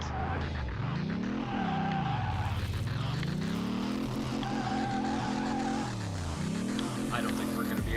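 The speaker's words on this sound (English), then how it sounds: "driving car mechanic simulator cars on the Nürburgring is harder than driving in real life" A Corvette Z06 tears around the Nürburgring in Car Mechanic Simulator 2018, its engine revving up and down through repeated shifts with tire squeal, loud and continuous.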